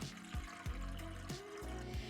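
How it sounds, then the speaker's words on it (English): Water pours into a soup pot at a home stove in a series of short splashing gushes and trickles, close and fairly quiet, with no talking. "we're going to start with adding our water into the pot."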